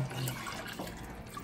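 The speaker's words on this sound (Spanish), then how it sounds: "Ahí le está poniendo el agua y vamos a ver cómo es la consistencia" Water is poured into a thick chili sauce for a chilorio-style meat dish, giving a soft, faint, steady trickle and light splashing at close range, with no talking.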